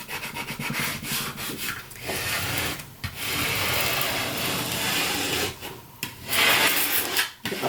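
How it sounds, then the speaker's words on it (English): A hand scraper burnishes vinyl down onto a sign with steady, close rubbing and scraping strokes that continue almost without pause, with a few brief gaps between passes. "take our scraper and burnish all of this"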